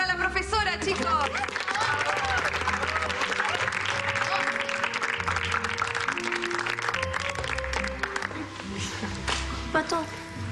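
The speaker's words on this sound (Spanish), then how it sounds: "Un aplauso para la profesora, chicos." A classroom audience applauds a teacher with a busy burst of clapping, while voices, music-like tones and other scene sounds run underneath.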